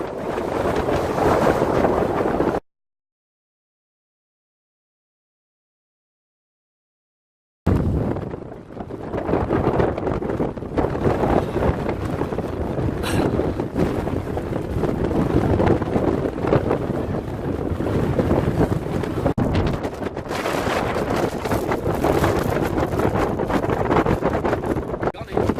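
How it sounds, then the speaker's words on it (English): Strong wind buffets the microphone on an exposed hilltop on Pendle Hill in January, a loud, continuous roar and rumble that cuts out for a few seconds before returning just as hard. "it's just too windy"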